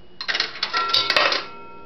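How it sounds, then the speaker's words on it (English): A 1960 Automatic Electric three-slot pay phone in working condition sounds its quarter signal: a quick cluster of bright metallic bell strikes that rings out close and clear, then fades away over about a second, with no talking. "And quarters were a gong."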